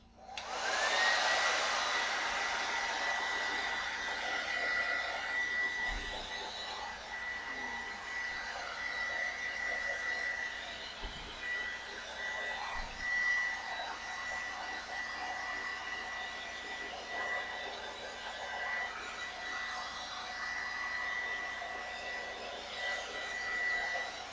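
A hair dryer blows steadily on someone's hair during a bangs styling session, giving a loud continuous whooshing whine that holds for over twenty seconds with slight shifts and a few faint bumps, and no one speaking.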